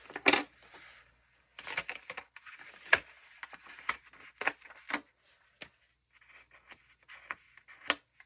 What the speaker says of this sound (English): We're going to use a gyro cut because I love my gyro cut